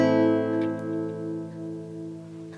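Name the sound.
A minor chord strummed on guitar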